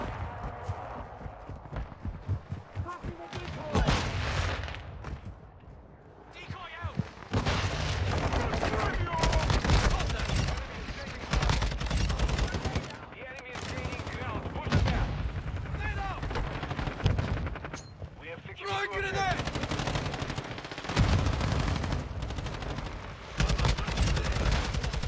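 Call of Duty Modern Warfare 2 gunfight with a 74U submachine gun, rapid bursts of gunfire recurring across the clip, loud and close, mixed with game noise and players talking.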